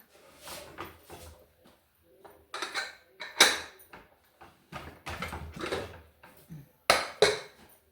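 A pressure cooker lid is opened on cooked beans once the steam has been let out, giving a series of loud metallic clanks, scrapes and knocks from pot and lid over several seconds.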